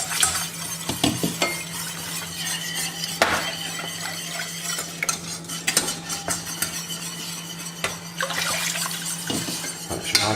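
Madeira sauce stirred in a pan for beef tongue, a spoon scraping and clinking against the metal with soft liquid swishes in an irregular rhythm, close and moderate.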